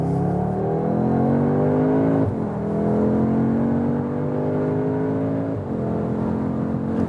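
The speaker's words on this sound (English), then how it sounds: "when we accelerate out of the corner here now" A 2021 Audi S3 accelerates hard out of a corner. The engine note climbs steadily through each gear, with two brief dips at the shifts, and stays loud and close throughout with no talking.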